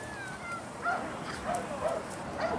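A police K9 dog yips and whimpers in short, faint bursts, several spaced calls during an arrest in a house, set against a steady background hum with no clear talking.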